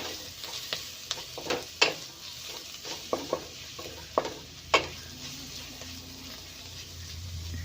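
Red chili powder being stirred into noodles frying in a pan: a low sizzle under a series of sharp, uneven spatula scrapes and taps against the metal, close and without any talk.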